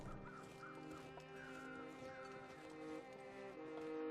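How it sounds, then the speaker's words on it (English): Crows caw in The Long Dark video game, harsh calls repeating at a distance over a low ambient drone, faint and scattered across the scene. "I hear crows, I can't see them."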